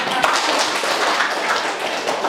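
A room full of people claps and applauds steadily, a dense continuous patter of hand claps with some voices mixed in.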